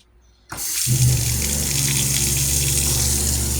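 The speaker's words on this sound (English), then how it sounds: "Today, I actually have running water." After a moment of near silence, water suddenly gushes from a tap and keeps running steadily and loudly, with a low mechanical hum underneath.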